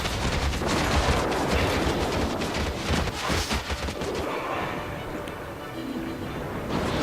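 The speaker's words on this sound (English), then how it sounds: "I just want to use that cannon." Cannon and weapon fire blasts through a large-scale player-versus-player battle in Guild Wars 2: dense, continuous booms and crackling gunfire layered loudly over a rumbling din, easing slightly toward the end.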